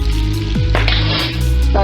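Butter and brown sugar sizzle and bubble hard in a pan for pineapple upside-down cake, a loud, close, continuous frying hiss with a few stirring scrapes and no talk.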